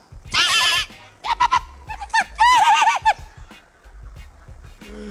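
A performing clown's voice mimics a horse's neigh in several bursts of shrill, wavering whinny-like cries, loud and close, with a short pause between them, at a comedy show.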